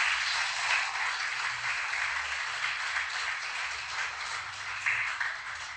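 Sustained applause from a church congregation, a steady dense wash of many hands clapping for almost six seconds with slight swells, no voices over it.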